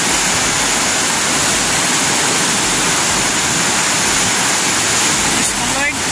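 Floodwater rushes through the Piñan river in a constant, loud, broadband roar close to the listener, unbroken for the whole stretch.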